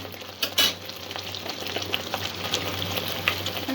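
Prawn pulao masala being stirred in a frying pan, a steady close sizzle and fry with scraping spoon strokes against the pan, a few louder scrapes standing out.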